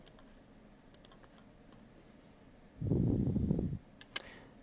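Sharp mouse clicks while setting up a Windows 10 virtual machine in VMware ESXi 7, with a couple of brief clicks early and a quick pair near the end, separated by a short low rumbling burst.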